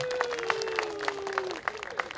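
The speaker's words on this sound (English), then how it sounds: "Give yourselves a round of applause, ladies and gentlemen." Audience clapping at a gala dinner in Hanoi, sustained applause throughout with a voice running beneath it.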